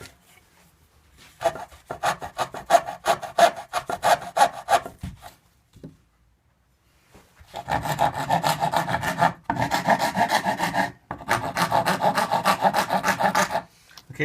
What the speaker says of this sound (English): using my fretting saw, I'll saw straight down on the line here.